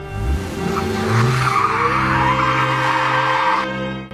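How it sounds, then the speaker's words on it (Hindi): A speeding car skids hard with a loud, sustained tire squeal lasting several seconds, then cuts off abruptly; no crash impact stands out. "रास्ते में अचानक एक तेज रफ्तार गाड़ी ने जोर से टक्कर मारी।"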